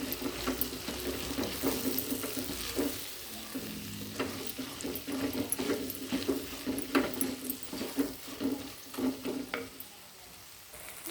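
Onions fry in a pan with coriander leaves ahead of mashed toor dal, giving a steady crackling sizzle broken by irregular stirring scrapes and taps, close and moderately loud with no voices.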